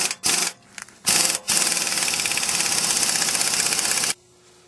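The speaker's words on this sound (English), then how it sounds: "we're going to attempt to pull the stud through with the impact on the lowest setting" An impact wrench on its lowest setting pulls a wheel stud through a Dodge Dana 70 axle hub, a few short hammering bursts followed by three seconds of loud, steady rattling that stops abruptly.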